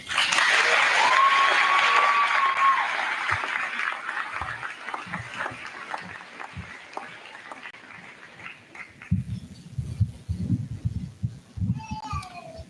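Audience applause at the Goodrich High School Class of 2025 graduation ceremony, a dense burst of clapping and cheers that thins out after a few seconds, followed by scattered voices and shuffling.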